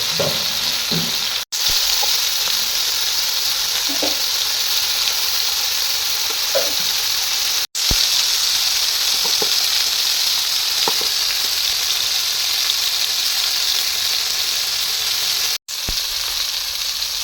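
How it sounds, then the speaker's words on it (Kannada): Chicken masala pieces fry in hot oil with a loud, continuous sizzle that holds for the whole stretch, broken only by a few brief gaps and small pops. "ಫ್ರೈ ಮಾಡ್ತೀವಿ."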